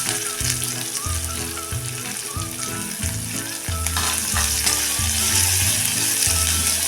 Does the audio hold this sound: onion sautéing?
yes